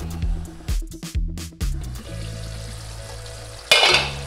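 Chicken roast cooking in a pan, Thattukada style, with several dull stirring scrapes against the pan at the start, then a steady sizzle and a louder burst of frying near the end.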